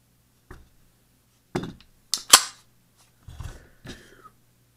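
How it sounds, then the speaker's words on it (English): A magazine being removed from a Canik TP-9 pistol: a few sharp metallic clicks and clacks separated by short pauses, close and distinct in otherwise quiet surroundings. "let's take the magazine out"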